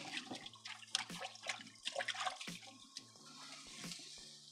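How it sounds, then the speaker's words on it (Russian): Running water from a tap as hands are rinsed after handling raw pork in a garage kitchen, a quiet splashing stream with irregular clatter and faint sizzling underneath. "пока одна сторона жарится, можно помыть руки от мяса"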